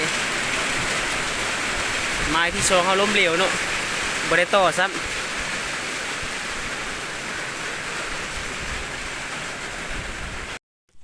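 Heavy storm rain pours down steadily in a dense, continuous roar, with someone briefly speaking over it before the sound cuts off.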